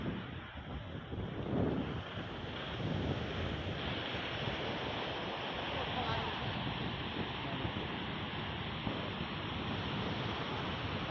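Surf rolls in at Marina Beach in Chennai as a steady broadband wash of breaking waves, mixed with gusty wind buffeting the microphone, with no clear voices.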